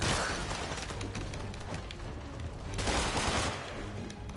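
Rapid bursts of gunfire in the video game Marvel's Spider-Man, dense overlapping shots and booms that swell and fade across the whole stretch, loud and close, with no voices over them.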